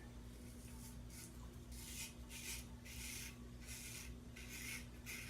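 A Gem safety razor scraping through lather during a wet shave, a series of short rasping strokes in a steady rhythm, close but quiet over a constant low hum, with no talk.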